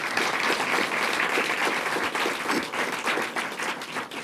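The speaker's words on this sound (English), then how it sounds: "let's give them a round of applause" An audience at a public policy event on campus sexual assault breaks into a round of applause, a dense, steady patter of many hands clapping at moderate volume throughout, with no voices over it.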